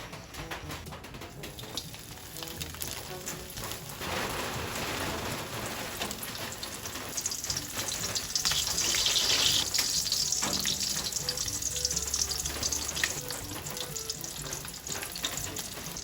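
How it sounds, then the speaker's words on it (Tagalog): Dried fish (tuyo) frying in a pan of oil, a steady hiss and crackle that swells louder midway and continues evenly throughout, with no voices. "Magpiprito na po ako ng tuyo."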